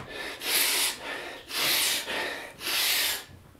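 A voice imitates a huge, loud sniffing noise, making three strong, drawn-out snorting inhales in a quick rhythm, close and alone.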